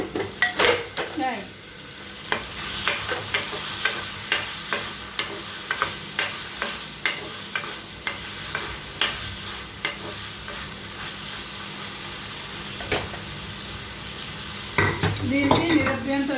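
Curry leaves sizzle in hot oil in a pan while a spoon scrapes and clinks against the metal in a steady stirring rhythm, with a brief voice at the end.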